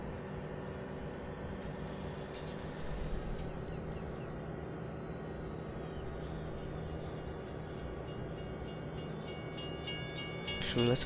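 A train rumbles steadily through the Farming Simulator 2017 Slovak Village map, a continuous low rolling drone with a brief high whine partway through and a sharper clank near the end, no talk over it.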